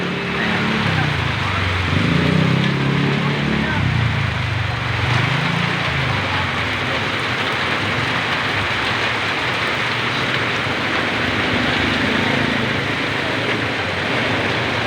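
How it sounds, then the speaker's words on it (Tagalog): Heavy rain pours steadily and loudly, a dense continuous hiss with a low engine-like rumble underneath in the first few seconds. "ang lakas ng ulan sa ngayong mga oras na to"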